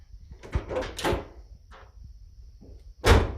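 A 1976 Chevy Vega GT's door is worked with a few rattling clunks, then shut with one firm, close thud at the end; no talk is heard.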